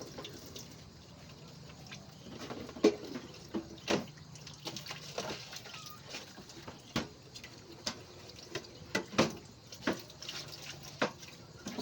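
Tap water running into a sink as a plate is rinsed during dishwashing, a steady low wash of water broken by frequent sharp clinks and knocks of dishes, fairly quiet and close, with no talking.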